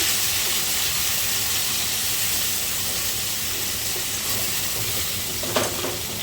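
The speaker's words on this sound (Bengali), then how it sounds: "টমেটো কচু দিয়ে একটু ভেজে নেব" Chopped tomatoes frying in a pan with ginger while cooking khichuri with Gobindobhog rice, a steady close sizzle and hiss throughout with one brief stirring scrape near the end.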